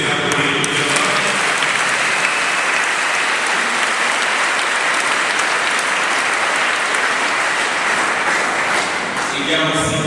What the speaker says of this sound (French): Je vous prie de les applaudir.